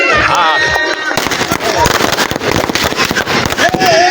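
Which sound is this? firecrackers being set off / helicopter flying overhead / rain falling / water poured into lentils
firecrackers being set off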